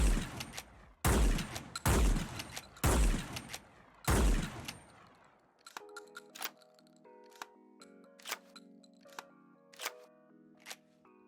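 Shotgun-style weapon from a Fallout 4 mod fires five heavy, booming blasts in quick succession, then shells are loaded one at a time with a string of crisp metallic clicks and clacks.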